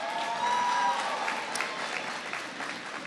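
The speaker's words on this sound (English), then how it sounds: "Give your superintendent a big round of applause." A crowd at a presidential jobs speech in Emporia, Virginia applauds the school superintendent, a steady wash of distant clapping that holds for a few seconds and begins to fade.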